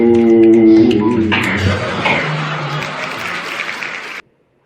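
An audience breaks into loud applause as a tribute artist finishes singing a song. The clapping swells over the fading song and carries on dense and steady for about three seconds before cutting off abruptly.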